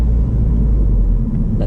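A Ford Focus RS rumbles while driving, a heavy low engine drone with road noise, close and steady inside the cabin with no talking.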